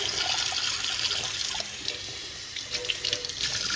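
Water runs steadily from a tap into a sink during rinsing, a continuous hissing splash at moderate level with small clinks, no talking.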